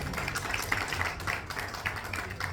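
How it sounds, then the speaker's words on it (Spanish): Audience applause at a literary panel with contemporary women writers at a book fair, a steady broadband patter of many hands clapping at moderate distance, with no pause over its short length. "Un aplauso para ustedes también."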